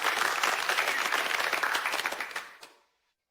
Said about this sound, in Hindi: सबसे पहले तालियों के साथ स्वागत करें लिन फेंग का